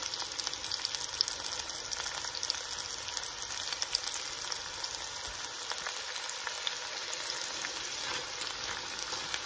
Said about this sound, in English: We'll get these sauteed up and get some nice brown on chicken breast and get our onions translucent